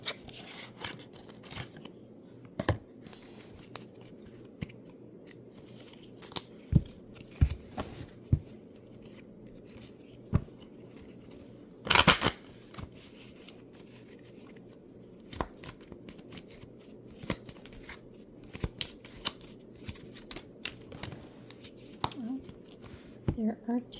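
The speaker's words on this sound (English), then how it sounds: "I'm going to pull a card from the Soul Truth deck just to see if a message comes out for you" Cards from a Soul Truth oracle deck shuffled and pulled by hand, a run of soft, close rustles, snaps and flicks scattered unevenly through the stretch, with quiet talk at times.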